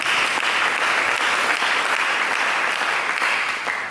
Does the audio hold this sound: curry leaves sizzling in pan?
no